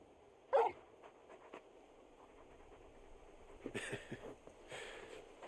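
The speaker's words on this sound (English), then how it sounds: "You're just a big puppy, aren't you? A very big puppy." Dog in the video game Final Fantasy XVI giving a brief yelp near the start, then soft whimpering and snuffling sounds a few seconds later, fairly quiet and close, with no talk.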